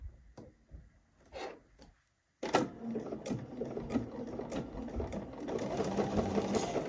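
A sewing machine runs steadily along a bodice seam at a 5/8 inch allowance. A few soft handling taps come first, then a brief pause. The motor starts with a sharp onset and hums continuously and close at a fairly even pitch.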